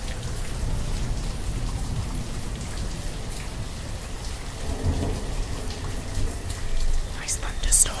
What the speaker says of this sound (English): Nice thunderstorm. It's very relaxing.